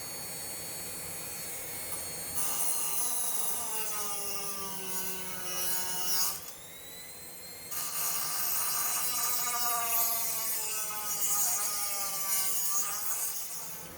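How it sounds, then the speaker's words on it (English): A rotary tool fitted with a cutting disc on an extension slices through rusted car body metal, a high whining screech that rises and falls in pitch as the disc bites. It drops away briefly mid-cut, then resumes for a second long pass. "I attached a cutting disc to my rotary tool extension so that I'm able to get into that area and"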